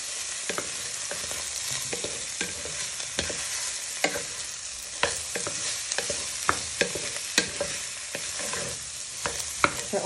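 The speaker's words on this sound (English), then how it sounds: "Now you want to start adding your onions and leeks, your unsmoked bacon. Give them a good toss." Onions, leeks and unsmoked bacon sizzling steadily in a pan, with regular scraping and clacking as the mixture is stirred and tossed, close and fairly loud with no talking.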